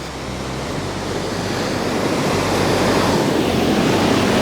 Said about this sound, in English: There's a big wave coming in there at the back.